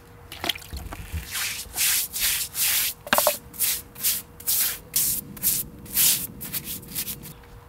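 Joint mortar for polygonal paving slabs being mixed into a viscous paste, a series of rhythmic wet scraping and stirring strokes close by, preceded by a few knocks and clatters, with no talk.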